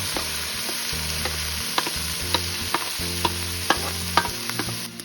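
Tomatoes tossed into a hot pan of chana masala, a dense steady sizzle with a regular series of sharp spoon taps and scrapes against the pan, no talking.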